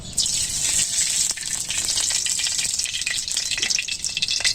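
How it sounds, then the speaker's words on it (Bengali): Mustard oil pouring into a hot wok makes a loud, continuous hissing gush that stays bright and steady throughout, with no talk. "কড়াইটা গরম হয়ে গেছে সর্ষের তেলটা দিয়ে দিই"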